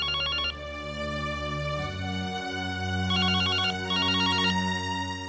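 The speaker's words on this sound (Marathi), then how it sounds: "आले, मी फोन बघते." A telephone rings with a synthetic melodic ringtone in a domestic scene from a Marathi TV serial, steady tonal bursts repeating over about five seconds, loud and close with no talk.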